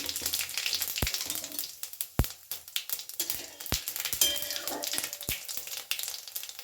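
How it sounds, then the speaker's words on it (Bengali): Bay leaf, dried red chilies and whole cumin hit hot oil in a pan and crackle close by, with a few sharp pops and clinks over the fizz and no voices. "তেল গরম হয়ে গেছে দিয়ে দিলাম তেজপাতা শুকনো লঙ্কা তার সাথে দেব হাফ চামচ মতো গোটা জিরে"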